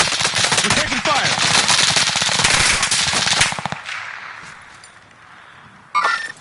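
Rapid automatic gunfire and bursts of shots in the Warzone video game, loud and dense for several seconds, then fading to a quieter tail before a short sharp burst near the end.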